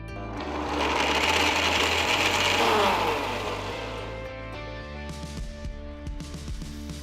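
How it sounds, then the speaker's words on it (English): An electric mixer grinder whirs loudly as it blends soaked pistachios with milk and saffron into a fine paste. The motor rises steadily, holds, then eases off, with no talking. "add the soaked pistachios along with the milk and saffron to a mixer jar and grind it to a nice fine paste"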